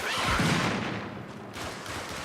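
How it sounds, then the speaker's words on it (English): Game weapon fire as a high-powered anti-tank emplacement shoots at basic units in a strategy video game: a loud burst of booming shots near the start that thins into a quieter rumbling tail. "He's killing very basic units with a very high-powered anti-tank emplacement."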